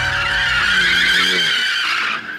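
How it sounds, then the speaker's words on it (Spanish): Tyres of a BMW M3 screech loudly and continuously as the car slides through a drift on a closed track, a close, sustained squeal with engine roar underneath that fades slightly at the end. "estamos aquí quemando goma como locos."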